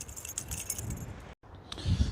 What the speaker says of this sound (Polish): Znalazłem klucze.